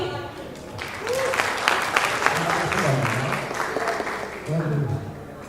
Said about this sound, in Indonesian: Langsung aja kita kasih tepuk tangan untuk Bang Edwin.